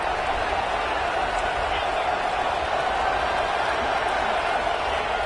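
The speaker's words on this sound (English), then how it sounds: "this crowd is fired up. Listen to this noise here." Stadium crowd in a Madden football video game, a dense, steady roar of fans filling the whole stretch without letting up, loud and even with no single voice standing out.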